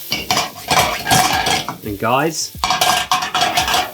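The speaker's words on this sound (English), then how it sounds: "Lift the pan off of the heat and add some of our butter. Toss those in the butter." Asparagus tossed in butter in a pan just lifted off the heat, with loud metallic clanks and rattling of the pan and utensils, a faint sizzle, and a short vocal sound midway.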